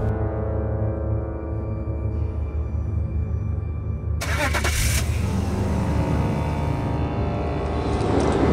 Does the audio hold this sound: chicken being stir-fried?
no